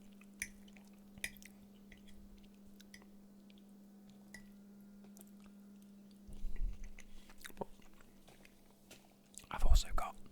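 Close-miked wet chewing and biting on spicy Co-op chorizo, with soft squishy bursts near the middle and a louder crunchy one near the end over a steady low hum.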